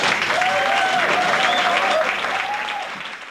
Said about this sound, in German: die kriegen auch Applaus